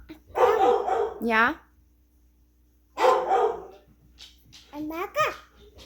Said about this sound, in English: Roxy's barking